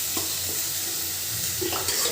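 Potatoes and greens frying in a cooked-down paste of turmeric, chilli and fish spice, giving a steady close sizzle with faint stirring scrapes in a home kitchen.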